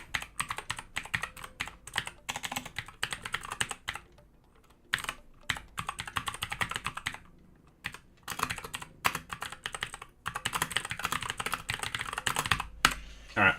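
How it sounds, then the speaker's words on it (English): Rapid clicking keystrokes on a computer keyboard while entering web development notes, typed in brisk bursts with a couple of short pauses, close and clear with no talking. "So I'm just typing this out for future me."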